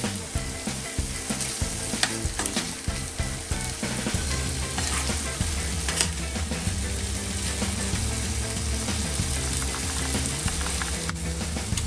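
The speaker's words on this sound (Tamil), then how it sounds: "லாப்ஸ்டரை அதுவாக ஃப்ரை பண்ணி எடுக்க போகிறேன்." Lobster frying in a hot pan, a loud, steady sizzle and crackle of oil with occasional stirring scrapes and clatters throughout, with no talking.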